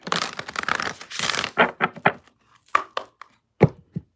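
Tarot cards are shuffled up close, a burst of riffling and sliding at first, then a handful of separate crisp slaps and taps as the deck is settled, with no talking.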